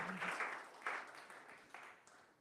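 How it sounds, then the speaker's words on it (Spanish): Audience applause at a church service, a brief burst of clapping that quickly thins and fades over a couple of seconds, moderately loud at first and then trailing off. "Give a round of applause to Jesus."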